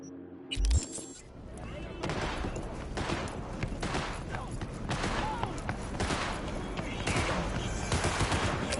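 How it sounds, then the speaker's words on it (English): An exchange of gunfire rattles on in bursts after a brief loud boom near the start, sustained and dense, with voices faintly audible beneath. "Exchanging fire!"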